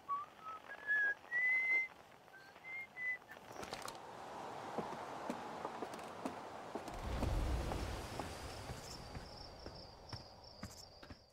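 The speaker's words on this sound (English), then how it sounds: "Oop, someone's whistling." Whistling from a character in the space exploration game Outer Wilds: a short melodic tune of separate rising and falling notes, fairly clear and alone, followed by soft footsteps and ambient game sounds.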